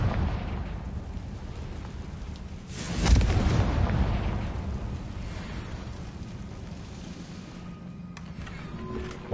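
A Confringo blasting spell goes off in Hogwarts Legacy, a single loud booming blast that swells out of a low rumbling ambience and slowly dies away into crackly background noise.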